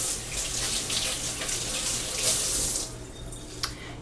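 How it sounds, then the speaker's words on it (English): Tap water runs steadily into a sink while hands are rinsed beneath it, a constant close splashing hiss that eases off near the end, followed by a brief sharp knock. "Rinse my hands."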